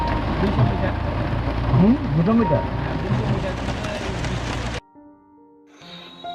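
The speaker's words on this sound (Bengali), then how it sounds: "এখান থেকে বেরোতেই নামলো তুমুল বৃষ্টি।" Heavy rain pours in the Dooars region of West Bengal as a steady, loud roar under a speaking voice, then cuts off abruptly to a quiet stretch with soft tones.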